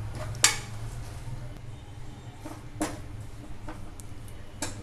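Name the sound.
mixing vada batter with baking soda in a bowl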